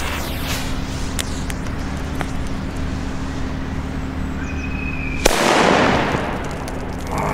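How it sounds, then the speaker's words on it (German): A single loud, sharp firecracker blast from a Funke D or Katan Super 2 banger cuts through a steady outdoor hum, followed by a brief crackling decay. "Oh, sind die stark, diese Böller."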